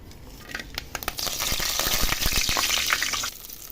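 Tempering spices sizzle and crackle in hot oil for a brinjal and tomato chutney, a steady close frying hiss with scattered sharp pops, swelling after the first second and easing near the end, with no talk.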